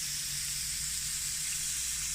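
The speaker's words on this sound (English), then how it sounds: "And you can hear right away, that's getting a great sizzle on it" Steady, loud sizzling of burgers on a hot grill, a continuous hiss with no break and no voices.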